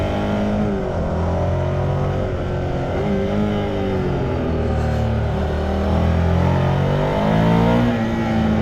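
A 2023 Ducati Scrambler 800 Next-Gen motorcycle engine and exhaust hum steadily at moderate speed, with engine pitch shifting slightly up and down, continuous and fairly loud with no speech.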